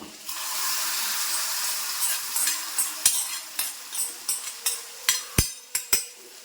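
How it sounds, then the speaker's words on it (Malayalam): Hot fried seasoning is poured into a banana and fish curry and sizzles loudly at first, then settles into a fading crackle broken by sharp clinks and scrapes of a spoon or pan. "അപ്പം നമ്മുടെ കറിയിലങ്ങ് ഒഴിച്ചു കൊടുക്കാം"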